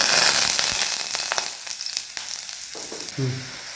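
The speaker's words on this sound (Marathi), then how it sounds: "आपलं तूप गरम झालेलं आहे, त्याच्यामध्ये आपण हे बटाटा खिसून घेतलेला आहे ते टाकायचं आहे।" Grated potato tipped into hot ghee crackles and sizzles loudly at first, then settles into a softer, steady fry, with a short utensil clatter near the end.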